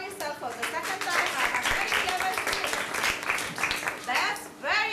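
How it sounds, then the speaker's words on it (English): A classroom audience of English teachers claps for itself, a dense, sustained patter of many hands filling about five seconds at close range, easing briefly near the end before a short renewed burst. "so clap your hands for yourself for the second time"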